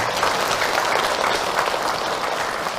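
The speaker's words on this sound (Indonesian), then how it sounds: "Tepuk tangan Ibu untuk Ahilman." Brief applause from an audience of mothers at a religious talk on parenting, an even patter of clapping at moderate loudness.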